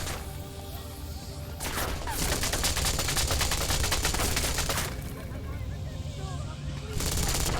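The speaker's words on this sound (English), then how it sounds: "it sounds like a problem from the whole gunfire that's happening" Gunfire in the video game Deus Ex: Mankind Divided: loud, rapid automatic bursts rattle for several seconds, pause briefly, then start again at the end.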